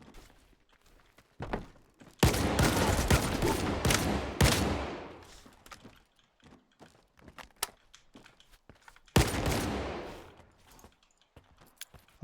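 Saiga shotgun fire in the S.T.A.L.K.E.R. 2 video game, two loud sustained bursts of rapid shots with echoing tails, separated by quieter clicks, rustles and footsteps.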